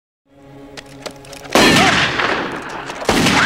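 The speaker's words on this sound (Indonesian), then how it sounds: "Ketika Kevin mencoba mencabut pistolnya untuk mulai menembak, sebuah reaksi cepat dari sheriff membuat mereka tercengang." Gunfire erupts in a western showdown between a sheriff and bandits, two loud sharp blasts following a quieter buildup of tense sound, with each shot trailing into a long ringing echo.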